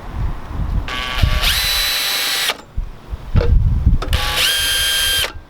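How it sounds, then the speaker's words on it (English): A power drill whines loudly in two bursts, spinning up and biting through a Mazdaspeed Miata's ECU case, with clattering handling noise between the runs. "Hey Josh, is it okay if I drill holes in your brand new ECU?"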